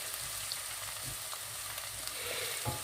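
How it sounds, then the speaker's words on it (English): Onions fry gently in a pan for a pork and pineapple dish, giving a quiet, even sizzle with a few faint stirring knocks and no voices. "Just leave that to fry a little bit."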